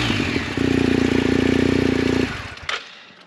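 BMW R 1250 GSA motorcycle, a boxer twin fitted with a racing exhaust and no catalytic converter, idles with a deep throb, then holds a loud, steady rev for nearly two seconds before cutting off, leaving a brief clatter and quiet.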